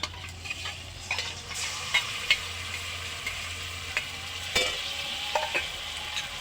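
Ginger, garlic and green chili paste hits a hot pan, giving a steady sizzle with a low hum beneath, broken by a few scattered clicks and scrapes of stirring.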